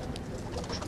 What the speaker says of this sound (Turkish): narin güvercinlerin içinde en narinlerden bir tanesi dönek güvercini